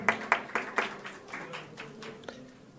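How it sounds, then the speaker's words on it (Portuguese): Audience applause at a Brazilian panel on public-service physicians, welcoming the mediator: a handful of distinct claps at the start, then thinning, scattered clapping fading within a few seconds in a reverberant hall. "eu peço também uma salva de palmas ao Alexandre Michel"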